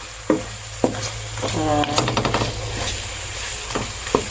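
Pork adobo being stirred in a frying pan, with a soft steady sizzle broken by sharp scraping knocks of the spoon against the pan and a brief harmonic whine near the middle.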